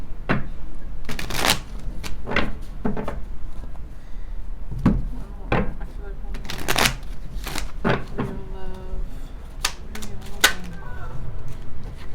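Tarot cards are shuffled by hand in a run of crisp riffling bursts and soft slaps, some quick and clustered, others spaced apart, close and fairly loud against a quiet room.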